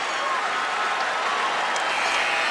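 A large basketball crowd in Rupp Arena roars and cheers, a dense wash of applause and voices filling the whole moment.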